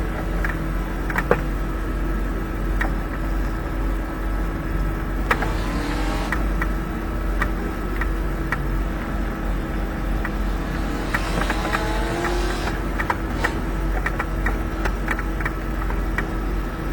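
Race car engines hum at low, steady speed through a long parade lap in a racing sim game, forming a constant drone with faint whines and brief clicks over it.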